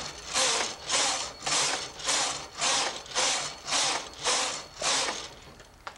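Domestic knitting machine carriage sweeping back and forth to knit rows of main-color yarn for a skirt waistband facing: nine even, rhythmic ratcheting swishes, each about half a second long, close and clear with no talking.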